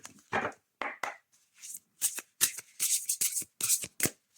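Oracle cards shuffled by hand in quick, bursty riffles and slides, several separate flurries with short pauses between, close and fairly loud, no talking.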